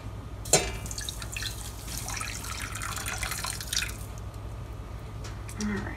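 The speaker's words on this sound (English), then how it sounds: "She's gonna pour it over, and we're gonna get it so it's just going right over top of the petals," Bottled water poured over rose petals, a soft trickling and dripping splash that starts with a brief spill and continues as a light, steady pour close by.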